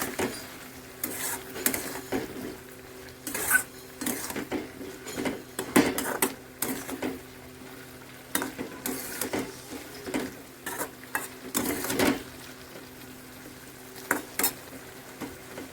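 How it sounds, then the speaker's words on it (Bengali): A spatula scrapes and knocks around a pan as koi fish with bottle gourd greens and cumin paste are stirred, irregular clattering strokes over a soft sizzle, close and fairly quiet, with no talking. "ভালো করে একটু নেড়ে চেড়ে মিশিয়ে নেব"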